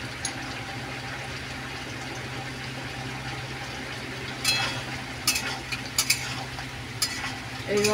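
Prawns go into a frying vegetable curry of pumpkin, Malabar spinach, jackfruit seeds and potato. A steady close sizzle runs throughout, with a utensil clattering and scraping against the pan during stirring in the later seconds.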